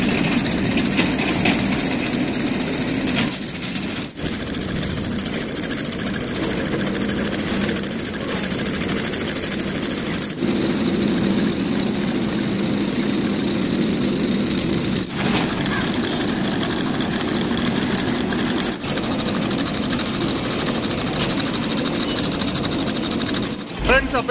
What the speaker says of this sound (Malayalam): അപ്പം എൻജിനും ബാറ്ററിയായിട്ട് നമുക്ക് കണക്ഷൻ കൊടുക്കാം. അതിനുശേഷം നമുക്ക് എൻജിനൊന്ന് സ്റ്റാർട്ട് ചെയ്യാം.